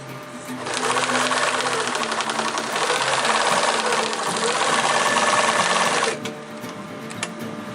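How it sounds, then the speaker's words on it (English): A sewing machine stitching a zigzag bar tack on a backpack, one continuous loud whirring run of about five seconds that stops abruptly, followed by quieter handling sounds. "sew bar tack. 3 sew it 3 times with a zigzag stitch"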